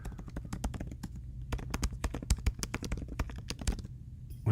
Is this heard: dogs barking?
no